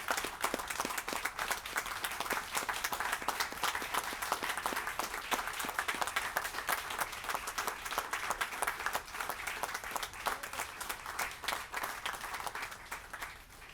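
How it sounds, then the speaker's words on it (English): A crowd at a police memorial ceremony gives the police officers a standing ovation, sustained, even applause with many hands clapping continuously at moderate volume for the whole stretch. "Give them a standing ovation."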